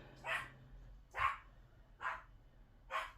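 A dog barks four times in a slow, even rhythm, each bark sharp and fairly close, with quiet gaps between.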